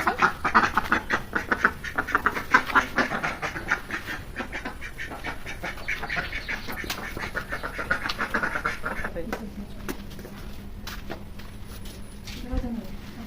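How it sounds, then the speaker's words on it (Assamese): Ducks quack in a busy cluster at a village home with chickens about, a lively chorus close by that fades after several seconds while a person talks over it. "এয়া চাওকচোন, জেঠাহঁতৰ ঘৰত কিমান হাঁহ আৰু কুকুৰা আছে।"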